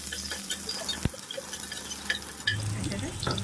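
Onions fry in an oil tempering for a yogurt curry, giving a soft sizzle while a utensil stirs and scrapes the pan in a few sharp knocks.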